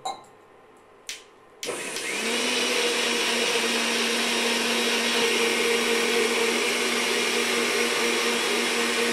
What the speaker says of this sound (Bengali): এইদিকে মিক্সচার মেশিনে মশলা পিষা যাচ্ছে